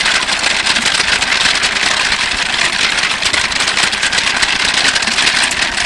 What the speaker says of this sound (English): this is an animal-powered engine